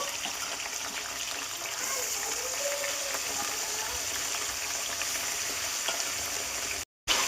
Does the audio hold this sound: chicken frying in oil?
yes